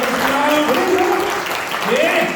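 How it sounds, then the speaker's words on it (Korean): Audience applause at a book concert for Seo Han-seok in Ansan, a sustained clapping wash running under a voice that keeps talking over it. "박수"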